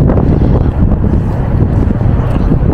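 Strong, cold wind buffets a microphone outdoors in Odaiba, Tokyo, as a loud, continuous low rumble with gusting surges and no break across the whole stretch.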